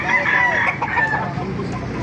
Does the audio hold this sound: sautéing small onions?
no